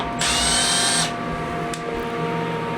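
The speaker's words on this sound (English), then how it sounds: "But you don't want a sharp area here, so I buff that up." A power tool buffs the edge of a handmade knife blade in a USA knife workshop, a loud high whine for about a second, then fading into a steady machine hum and workshop noise.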